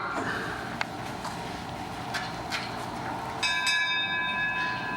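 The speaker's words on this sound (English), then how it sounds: "And Peter's bell." A small bell rings out during a stage play, a bright tinkling tone that enters partway through and rings steadily above a low murmur of room noise and movement.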